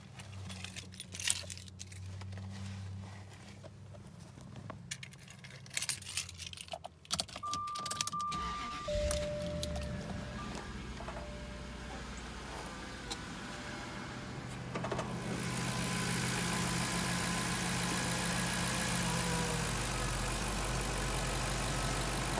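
A car engine cranks and catches, then settles into a steady idle that grows louder and fuller toward the end, with some clicks and jangles beforehand.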